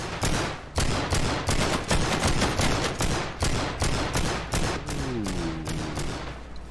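Sustained gunfire with armor-piercing rounds in a video game, a loud, dense stream of rapid shots close by, with a faint voice in the last seconds.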